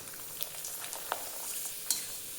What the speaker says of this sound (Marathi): आता तळूयात आपण पापडी।